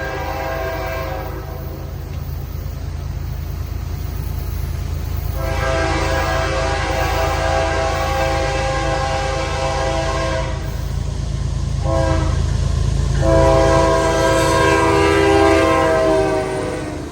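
A westbound freight train, a manifest, rumbles past loud and close with steady wheel clatter while its horn sounds in several long blasts.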